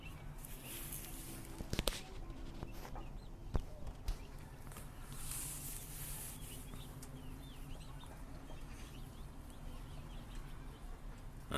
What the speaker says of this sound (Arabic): هاي الدجاجة العجوز أكبر دجاجة عندنا